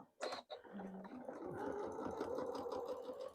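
A sewing machine stitches a quarter-inch seam on a quilt sheep block, a short start-up whir settling into a steady, quiet motor hum close by.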